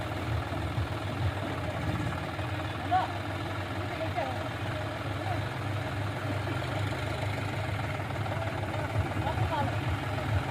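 A John Deere 5105 tractor engine idles and runs steadily at high altitude while the tractor is stuck on a dolly, giving a continuous low, moderately loud rumble with voices faintly audible in the background.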